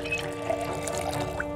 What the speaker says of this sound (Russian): Наполнить бутылочку воды.